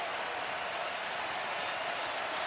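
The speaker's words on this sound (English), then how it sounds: "So here comes the crowd for the final 3:13 of regulation." At a college basketball game between Michigan State and Wisconsin, an arena crowd keeps up a dense, steady roar of cheering and applause, loud and even throughout, with no voice rising above it.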